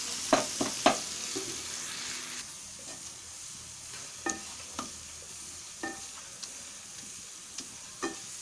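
Tomatoes sizzle in a pan while a spoon mashes and stirs them, giving a soft frying hiss broken by sharp scraping clicks at irregular intervals.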